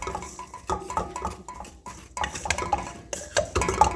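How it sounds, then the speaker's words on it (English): A spoon scraping and clinking against a pan while stirring seasoned food, steady rough scraping with scattered metallic clinks close up, no voices. "stir it up."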